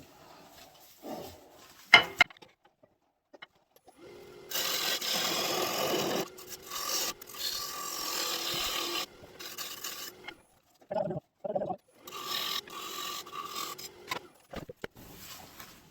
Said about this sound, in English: So let's get another cut across this face, get this cleaned up, and then we'll be ready.